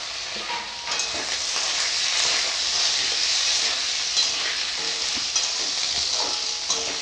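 Drumstick pods and eggplant fry in a pan with panch phoron, bay leaf and ginger paste, giving a loud, continuous close-up sizzle and hiss with faint stirring scrapes underneath and no talking.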